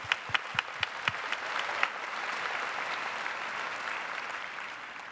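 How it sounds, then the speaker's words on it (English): At a keynote event, a few sharp individual claps start up and quickly grow into full, sustained audience applause that fills the room and continues steadily without talk. "So please give yourself a hand of applause."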